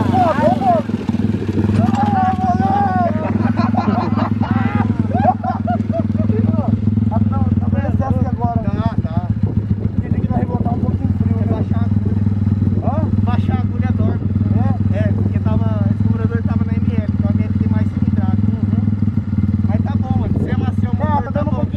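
A Honda CG OHC 243cc motorcycle engine runs continuously in a loud, steady idle with a throbbing low drone, while several people talk excitedly over it throughout.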